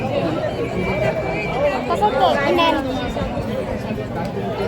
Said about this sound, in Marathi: आता देवलान आलेलो आहे ना खूप जास्त गर्दी आहे